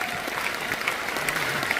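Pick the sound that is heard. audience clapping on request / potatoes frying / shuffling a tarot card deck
audience clapping on request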